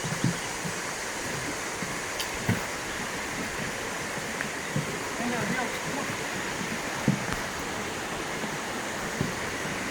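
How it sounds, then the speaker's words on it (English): Swollen river running high after rain on a wilderness hiking loop in Virginia, a constant broad rushing wash of water with soft scattered thumps and rustles over it. "river's definitely quite a bit higher than it was yesterday"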